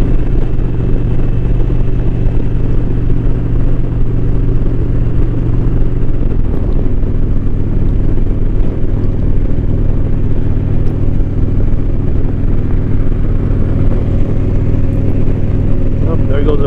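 Indian motorcycle, a Challenger or Scout, cruising at about 60 mph on a road ride, giving a steady loud engine drone with wind rumble throughout, with no clear change in rhythm.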